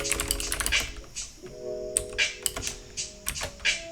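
Typing on a computer keyboard while writing JavaScript code, a steady run of close, crisp key clicks in uneven bursts with short pauses between.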